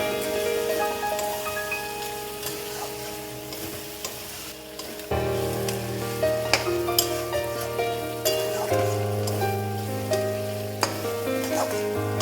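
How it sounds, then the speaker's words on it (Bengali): Mutton haleem being sautéed with ground spices, a steady loud sizzle with clinks and scrapes of stirring; a deeper, heavier frying hiss swells in partway through and continues with no talking. "তারপর এটাকে আবার আমি একটু ভালো করে কষিয়ে নেব।"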